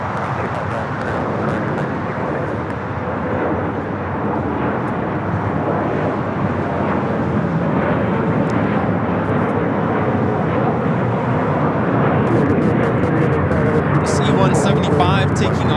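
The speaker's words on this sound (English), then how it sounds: "Good E-Jets taking off here on the south side." Embraer E-Jets take off from the south side of Los Angeles airport, a loud, continuous roaring jet rush that holds steady and builds slightly toward the end.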